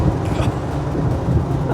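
A V8 supercar with its top down, driving fast on uneven, typical roads, gives a steady, loud engine and road roar throughout with no clear breaks.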